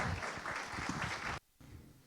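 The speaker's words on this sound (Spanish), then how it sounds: "quería un aplauso para mi gran amiga y que la disfruten" An audience at a pharmaceutical industry HVAC forum gives a short burst of applause for a speaker, fairly faint and distant, stopping abruptly before a brief smattering resumes.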